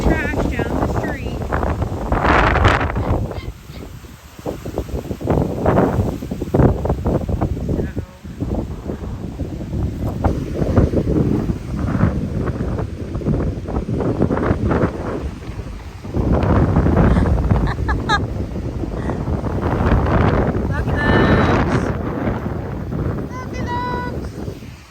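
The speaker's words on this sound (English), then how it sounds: "It's pretty windy" Strong gusts from the outer band of Hurricane Helene buffet the microphone in loud, roaring surges that rise and fall over the whole stretch, with brief calmer gaps between blasts and a person speaking intermittently underneath.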